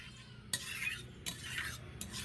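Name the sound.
mixing fried paneer into spinach paste in a pan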